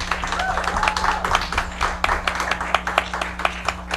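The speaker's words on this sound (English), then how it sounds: "Let's get a round of applause for that." A talk show studio audience claps through a sustained round of applause, dense overlapping hand claps filling the room alongside a steady low hum, with some voices faintly mixed in.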